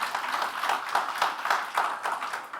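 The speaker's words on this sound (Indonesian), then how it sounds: "Yang setuju mantap, ayo tepuk tangan." A church congregation claps hands in a steady, even rhythm, the beats falling about every quarter second at moderate loudness, close by and largely free of speech.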